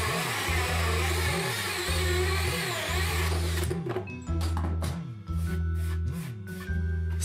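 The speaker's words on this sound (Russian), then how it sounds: "Сверлю отверстие сбоку." A power drill bores a hole in the side of a 50 mm plastic sewer pipe, whining loudly for about three and a half seconds before stopping, over a thumping background beat that continues afterward.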